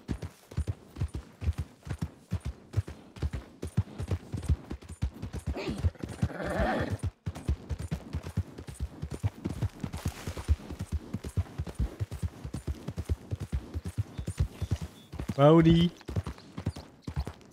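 Rapid, steady clip-clop of horse hoofbeats while riding in Red Dead Redemption 2, continuous and fairly close throughout, with someone talking over it and a brief whinny near the end.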